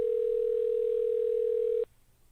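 A steady telephone dial tone hums loudly and unbroken after a call ends, then cuts off abruptly, leaving quiet low background noise.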